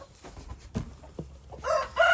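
Backyard chickens cluck and a rooster crows close by, a few short calls building to a louder crow at the end, with no talking.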